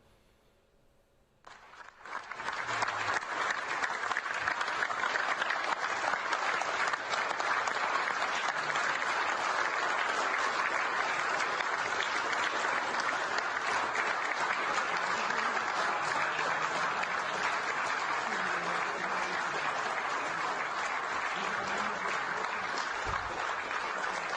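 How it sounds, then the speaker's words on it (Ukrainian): Sustained applause greets a president in a large assembly hall, starting abruptly after a brief quiet moment and continuing as a dense, even, loud clapping for over twenty seconds. "як нашого президента зустріли оплесками в сенаті генеральних"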